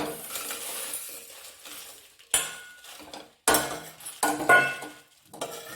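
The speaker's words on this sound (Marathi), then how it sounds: "ही मिरची भाजून घेते" Dry-roasting chillies in a pan for a homemade masala used in mutton, chicken and misal: scraping and clinking of a spatula against the metal pan, with soft rustling of the dry chillies and several sharper knocks, close by.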